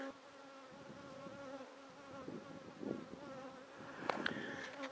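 Honeybees buzzing around an open hive while queen cells and comb are being worked, a steady close insect drone with a few louder individual buzzes passing near toward the end.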